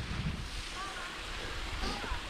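Waves breaking and steady wind on a small beach at Fisherman's Haven, Berwick upon Tweed, a continuous broadband wash with gusty rumble, close and fairly loud throughout, with no clear talk.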